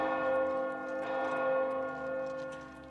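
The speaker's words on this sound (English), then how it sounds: "And the bells ring." Bells in the video game Oblivion ring on, a sustained, resonant tolling with lingering overtones that swells gently in waves, steady and fairly loud with no voices.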